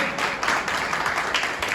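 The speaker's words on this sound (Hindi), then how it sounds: "एक बार ताली और बजा दो भाई।" An audience at a carrom tournament prize ceremony claps in a brief burst of applause, a dense patter of many hands that is fairly close and steady.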